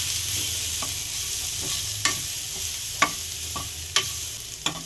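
A ground spice mixture frying lightly in oil in a pan before vegetables go in, giving a low continuous sizzle with a handful of crisp spoon scrapes at intervals, close up and with no voices.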